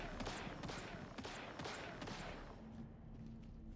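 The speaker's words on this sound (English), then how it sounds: "Who was shooting?" Rapid bursts of video game gunfire crack out in a quick series of sharp, fairly faint shots over the first two and a half seconds, then give way to a quieter hum.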